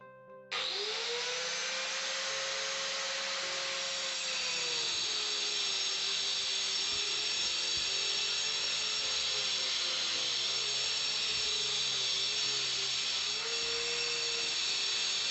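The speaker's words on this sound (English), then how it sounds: "So that's now the grinding down the sides here done to level us off" A power grinder runs steadily and loudly, grinding down the sides of a stairwell in a kitchen to square it off, with a continuous high whine whose pitch dips and rises as the tool loads and frees.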